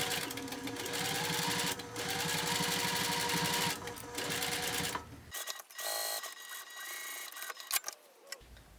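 A sewing machine stitches the corner of a clear vinyl pouch with a steady, close, rapid whirring clatter for about five seconds, then stops, and softer handling clicks and rustles follow.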